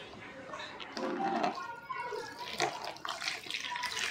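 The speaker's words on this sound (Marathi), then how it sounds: "पाणी टाकते आहे" Water splashes and pours over mud-covered creek crabs being washed in a container, running in uneven gushes with someone speaking over it.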